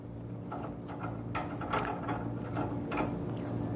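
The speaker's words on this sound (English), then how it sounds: "We cut screw threads in the back end here so we can screw in the breech plug." A breech plug is screwed into the threaded back end of a rifle barrel, giving a close run of irregular metallic clicks and ratchet-like scrapes that repeat over a few seconds.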